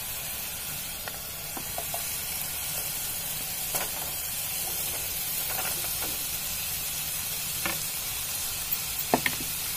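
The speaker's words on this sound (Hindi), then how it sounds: "अब इसमें हम डाल देंगे गट्ठे।" Besan gatte go into a pan of cooking masala, which gives a steady, soft sizzle and a faint hiss. Occasional light clicks and scrapes of stirring break through a quiet, even frying bed.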